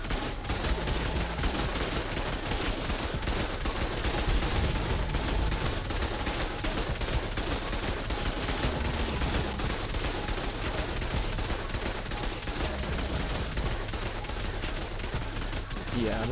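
Rapid gunfire in the Ark PvP video game, dense bursts of automatic shots rattling continuously and loudly throughout, with occasional talk underneath.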